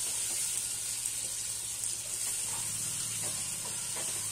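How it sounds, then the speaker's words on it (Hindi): Chopped onions fry in a pan with a steady, soft sizzle and hiss throughout, joined now and then by faint stirring scrapes. "ये प्याज जो हमने काटा था, फ्रेंड इस प्याज को हम हल्का ब्राउन होने तक भून लेंगे।"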